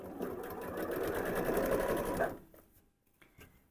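A sewing machine stitches fabric for a Christmas tree panel, running in one steady, close burst for about two seconds before stopping, followed by faint handling sounds.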